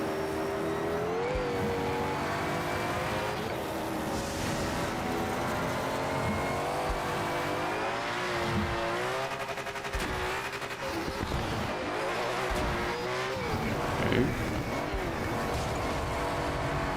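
A rally car in the V-Rally 4 video game drives hard, its engine droning and revving continuously with tire squeal and occasional bumps and knocks as it rams about, at a moderate level throughout.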